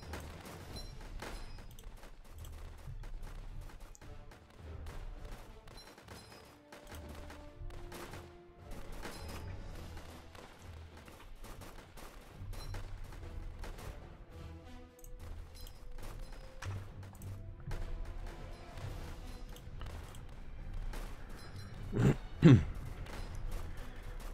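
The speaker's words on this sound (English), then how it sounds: "Bazooka machine guns" Bazooka blasts and machine-gun fire in Northend, a World War tower defense game, crackle as dense, continuous volleys of shots and thumps with a sharper boom near the end.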